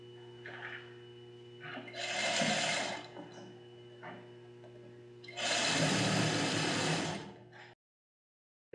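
A sewing machine topstitches a Star Trek Picard jacket prototype in two steady whirring runs of a second or two each, separated by quieter handling sounds and ending abruptly in silence.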